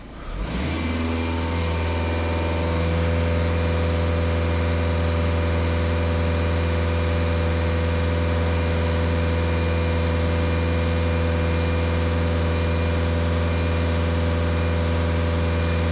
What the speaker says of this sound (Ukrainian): Даю газ в пол 2500 обертів.